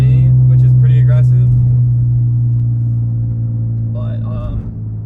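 A BMW F80 M3 with a DCT transmission, driven aggressively with manual shifting, gives off a steady, loud low engine drone from inside the cabin. The drone eases slightly over time while people talk over it.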